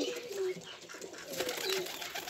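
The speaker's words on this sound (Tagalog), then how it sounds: "Kalapati!" Pigeons cooing up close: soft, low throaty coos repeat over a steady background hiss, fairly clear with no talking.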